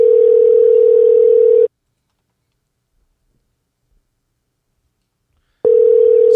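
A telephone tone sounds for a call being placed: a steady electronic tone for under two seconds, then about four seconds of silence, then the tone again, loud and close, with no voices.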